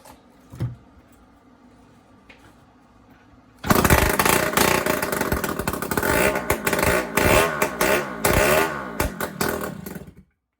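A 1978 Yamaha DT175E two-stroke motorcycle engine, freshly rebuilt and primed with starter fluid, kicks over after a few quiet clunks, then catches and runs loud and close with a rough, ragged idle and blips of revving.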